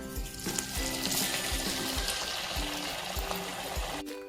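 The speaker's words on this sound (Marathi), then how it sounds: "आता वडे तळून घेऊया." Sabudana vadas deep-frying in hot oil give off a steady, close sizzling hiss that runs the whole time, with soft rhythmic music underneath.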